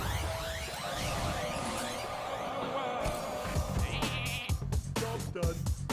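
Sheep bleating from a polymorph spell cast on a minion in the card game Hearthstone, a wavering cartoonish bleat over busy game music and effects, followed by several sharp impact and swoosh sounds.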